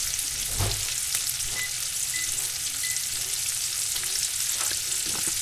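Food fries steadily in a pan, a continuous even sizzle with crackling texture and a few faint clinks, no voices.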